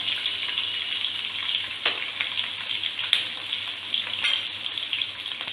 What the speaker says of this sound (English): let this fry for about 3 to 4 minutes till the onions turn dark brown.